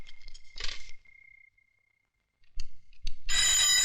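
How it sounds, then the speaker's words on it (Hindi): A landline telephone in a home rings with a bright electronic trill, starting after a pause and then ringing loudly and continuously near the end. "पिताजी जरा फोन उठाइए।"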